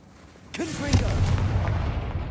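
A Confringo spell fires in Hogwarts Legacy, a sudden booming blast with a whooshing burst followed by a rumbling tail, just after a voice calls out the spell.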